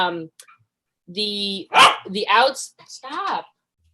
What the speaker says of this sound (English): the dog is definitely wanting my attention